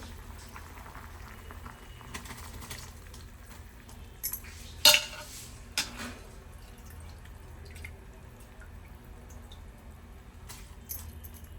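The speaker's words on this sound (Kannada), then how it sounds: "ಇವಾಗ ಅನ್ನ ಹಾಕಿದೆ ಕುದಿ ಬಂದಿದೆ" Rice boiling in water in an open pressure cooker pot, a steady low bubbling simmer with a few sharp metallic clinks of utensils against the pot partway through.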